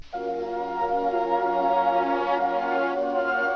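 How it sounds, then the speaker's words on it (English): A sustained synth chord processed with a vinyl tape effect, with a warm, slightly muffled, saturated, squashed tone and faint hiss beneath, holding steady for a few seconds. "You can hear that vinyl tape sound."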